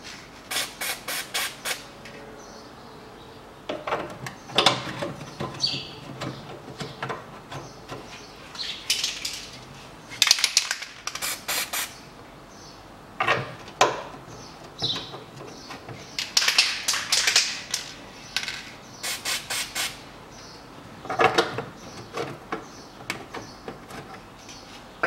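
Plastic shield being screwed back onto the fuel tank of a 2000 Toyota Noah with a 3S-FE engine, giving scattered clicks, taps and scraping bursts of bolts and plastic, fairly close, with quiet gaps between them.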